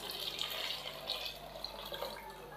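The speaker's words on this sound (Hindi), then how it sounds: "3 गिलास चावल है और 5 गिलास हम इसके अंदर पानी शामिल कर देंगे" Water pours steadily and continuously into a pot of rice for a potato and peas pulao, a close, even splashing rush lasting a few seconds with no talking.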